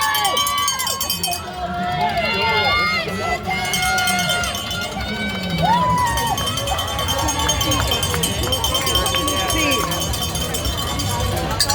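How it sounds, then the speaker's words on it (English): Crowd cheering marathon runners in downtown Chicago: loud continuous shouts and whoops with clanging cowbells and rhythmic footfalls of passing runners, people talking nearby throughout. "A lot of people cheering"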